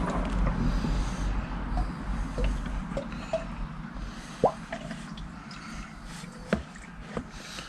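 Automatic transmission fluid drains from the 722.6 gearbox of a Mercedes W203 C-Class, heard as close wet drips and squishy splatters over a steady low hiss, with a few louder plops near the end.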